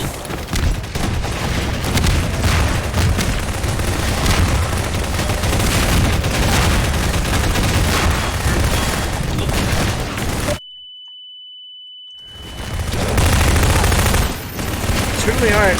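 Rapid gunfire and booming grenade blasts fill a Source engine shooter battle with a gravity gun, loud and continuous, then cut to a brief silence with a thin ringing tone before the firefight resumes.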